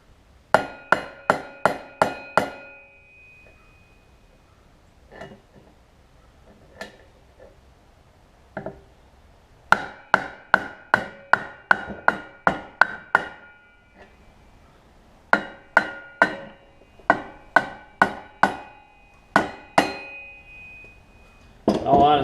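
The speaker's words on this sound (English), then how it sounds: "I'm just trying to beat the flywheel key down" Sharp metal hammer blows drive a flywheel key down on a Briggs & Stratton Intek engine from a Snapper rear-engine rider, ringing out in rapid close bursts of several strikes separated by brief pauses.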